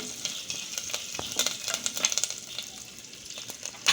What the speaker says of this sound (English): After it turns yellow, add curry leaves and saute it well.